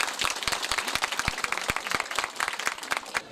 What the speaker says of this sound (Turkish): güçlü bir alkış alabilir miyiz sizlerden?